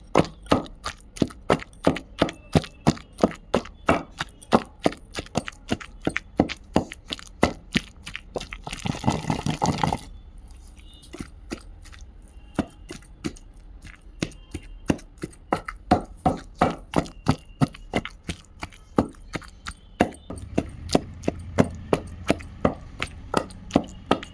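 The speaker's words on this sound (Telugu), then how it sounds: "ఇందులో వేసుకొని కొంచెం కచ్చపెచ్చగా దంచుకుందాం" Green chillies and onion pounded coarsely in a stone mortar for a tamarind chutney, a steady run of sharp, close thuds repeating about twice per second, with a brief denser grinding burst partway through.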